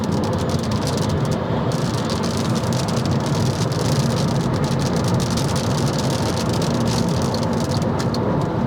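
Cabin noise inside an MG 5 electric station wagon at 130 km/h: a loud, constant broadband roar of wind and tyre noise that fills the car without a break, with no speech.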